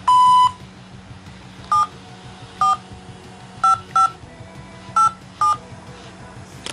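Telephone keypad tones are pressed one by one to enter a Hong Kong identity card number, one long tone then six short ones, clear and close over faint background hum, no talk.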